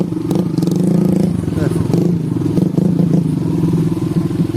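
A motorcycle throttles along a slippery red dirt road in the rainy season, its engine droning steadily and close with rough revving pulses while people talk over it.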